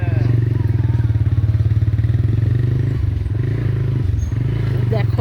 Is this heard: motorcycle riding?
yes